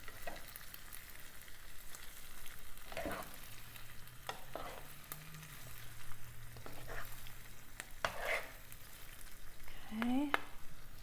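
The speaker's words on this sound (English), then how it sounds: "Yeah, we'll just keep stirring it all in" Vegetables for vegan pad thai are stir-fried in a pan, a steady soft sizzle under repeated scraping and folding strokes, with a voice briefly audible in the background.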